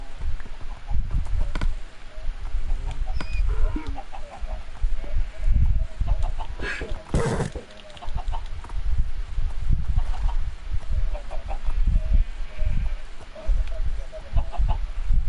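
Chickens cluck and squawk on and off over about fifteen seconds on a chicken farm in Minecraft, mixed in with talking and other game noise.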